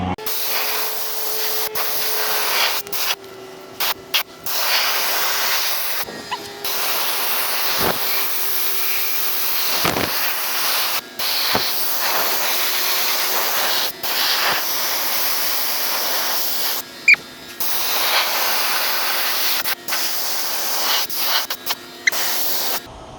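A paint spray gun lays clear coat onto a Humvee hood in long, loud continuous hissing passes, broken by brief pauses between strokes.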